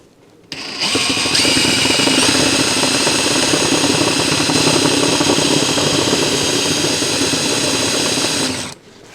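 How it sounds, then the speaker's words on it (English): A power drill drilling out rivets on suitcase luggage wheels starts up and whines steadily at high speed for several seconds, loud and close, then cuts off abruptly. "And now we're going to drill these out."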